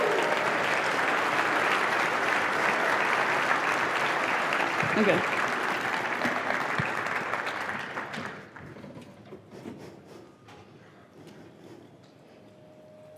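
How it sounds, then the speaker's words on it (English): An audience applauds a conference keynote speaker with sustained, loud, dense clapping for about eight seconds, then it fades to scattered claps and room noise while a voice speaks briefly. "A round of applause"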